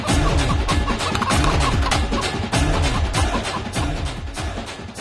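Roosters clucking and calling at a Sankranti festival cockfight in West Godavari, with repeated bird calls over a dense, loud crowd din that continues throughout.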